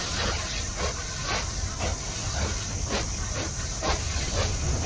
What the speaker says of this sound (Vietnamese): À, cái xe lửa này giống như là cái xe lửa tham quan toàn bộ